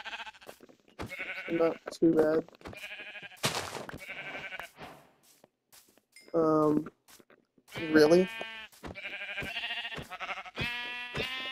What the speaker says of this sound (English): Couple sheep nearby